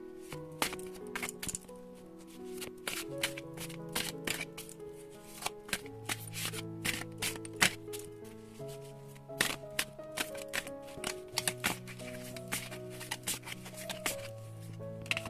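Tarot cards are shuffled repeatedly by hand, with a fast, riffling patter of card flicks and taps that runs steadily throughout, fairly close. Soft background music plays beneath it.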